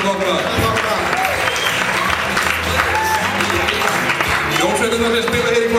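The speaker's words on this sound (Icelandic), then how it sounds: "ynir Þór Sigmundsson og Sigurður Þorgilsson, gefum þeim allir gott klapp." Loud applause from an audience at a rock concert, with clapping and crowd noise filling the whole stretch, mixed with voices.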